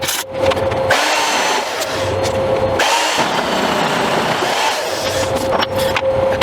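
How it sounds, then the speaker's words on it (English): A slightly wobbling drill bores out a metal hole pre-drilled to 17.5 mm while making small parts for a Nashorn, a loud, continuous grinding whir with brief dips in intensity. "So let's drill this hole."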